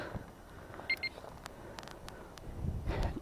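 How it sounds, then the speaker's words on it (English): A Kovix disc lock alarm on a motorbike gives two short, quiet electronic beeps in quick succession over a faint background hiss. "2 beeps."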